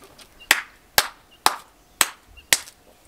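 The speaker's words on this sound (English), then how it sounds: "I'm giving myself a clap for that one." Five sharp hand claps ring out alone at an even, unhurried pace, close and crisp, with short quiet gaps between them, after someone tastes a pepperpot with scotch bonnet cooked in a glass jar.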